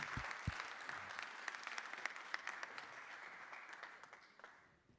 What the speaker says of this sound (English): With some applause, please.